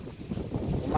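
Strong autumn wind buffeting outdoors, a steady close roar with gusty swells that rumble against the microphone, continuous throughout with no talk.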